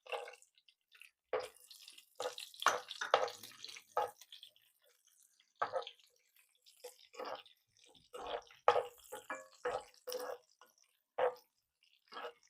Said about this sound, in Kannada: ಈಗ ದ್ರಾಕ್ಷಿ ಹಾಕ್ತಿದ್ದೀನಿ, ಡ್ರೈ ಫ್ರೂಟ್ಸು. ಇದನ್ನು ಫ್ರೈ ಮಾಡ್ಕೊಳ್ಳೋಣ.